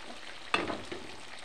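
Chopped green chilies stirred in a pan for chicken chili rice, a faint steady sizzle with one short scrape of the spatula partway through, no voices.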